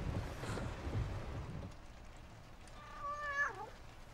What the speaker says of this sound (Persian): گربه هست